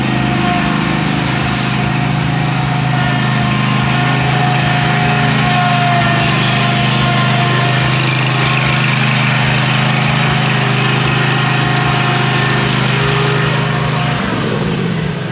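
A Kubota 60-inch zero-turn mower with a Kawasaki engine runs steadily at close range, a loud, even drone that holds throughout and dips slightly near the end, with no one talking.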